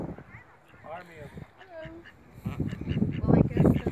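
Ducks at a lake give several short, nasal quacks close by, mixed with people talking and rising background noise.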